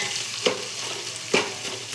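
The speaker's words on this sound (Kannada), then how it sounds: "ಚಿತ್ರಾನ್ನಕ್ಕೆ ಒಗ್ಗರಣೆ ಕೊಡಕ್ಕಂತಾಳು ಅವಳು" Tempering for chitranna (lemon rice) sizzles steadily in a home kitchen pan, a constant crackling hiss broken by two brief scraping stirs.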